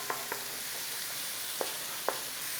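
Beef mince with dried thyme and sage frying in a pan for rag pudding, a soft steady sizzle broken by a few quick stirring scrapes, close and fairly quiet with no talking.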